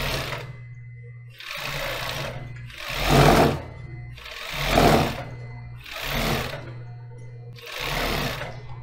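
A coverstitch sewing machine stitches elastic bias binding in several loud, close bursts of rapid whirring, separated by short pauses, with a steady low hum underneath.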